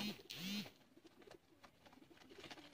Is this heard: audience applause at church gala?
no